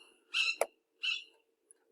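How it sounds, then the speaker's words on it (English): A small bird flying past gives two short, bright chirping calls about half a second apart, near and fairly clear against an otherwise quiet indoor background. "ignore the little bird flying by"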